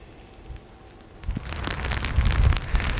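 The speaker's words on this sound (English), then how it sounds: "There's a lot of rain, maybe an inch or so of rain out there" Heavy rain from a severe storm in Charlotte, a steady broadband wash that swells louder after the first second and keeps building, with no voices.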